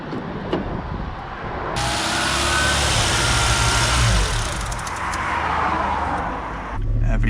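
A van engine rumbles steadily, swells to a louder, rougher running noise, then drops away abruptly near the end as it stalls from too few revs, on a road in Ireland.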